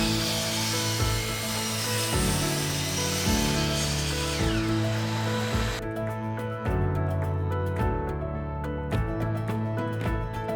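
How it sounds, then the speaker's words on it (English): A miter saw cuts 45-degree angles in 3.5-inch ripped lumber for cupola framing, giving a close whining motor drone with repeated cutting surges, and a mechanical clatter beneath. "Now that we've cut our first 45, we're going to flip the miter saw and cut the other end."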